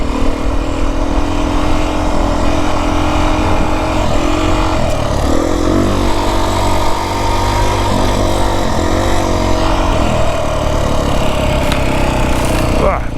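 A Beta 350 dirt bike engine runs continuously on a desert trail rutted by side-by-side tire tracks, its pitch rising and falling as the rider works the throttle over bumps, loud and close throughout.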